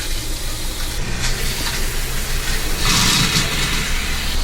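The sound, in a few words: water running out of a camper van's water system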